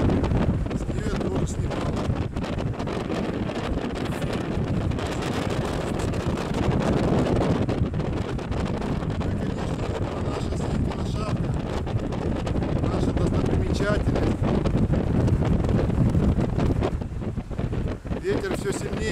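Strong autumn wind buffets the microphone nonstop, a loud broadband roar and rumble covering the whole stretch, with no distinct other sounds above it.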